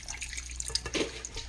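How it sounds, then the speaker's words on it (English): Water poured into a metal kitchen vessel while grinding a cooked gravy mixture: a short, thin trickle and splash of liquid, close and fairly quiet, with a small clink at the end. "Put some water in the same vessel, then pour it to the mixer,"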